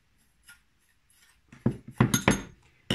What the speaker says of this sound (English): So I'll just mix those dry ingredients together.